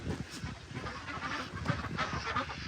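Domestic chickens on a homestead being called in for the night, a busy flock clucking and squawking continuously at close range with no talk over them.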